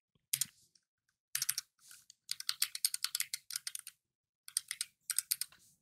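Bursts of typing on a computer keyboard while a URL with an HTTP prefix is entered, quick clicky keystrokes in several short runs separated by pauses, close and fairly quiet, with no voices.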